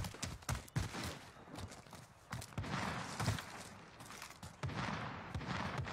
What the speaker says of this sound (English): He's getting shot at by someone else.